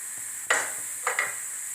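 Chicken kefta dropping into a hot pan, giving a sharp sizzle with a couple of scraping stirs, close and fairly loud over a steady frying hiss.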